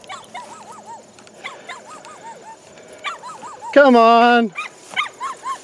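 Several dogs at an open house yip, whimper and bark in short bursts, with one long, loud, wavering whine midway; a person calls out to them briefly.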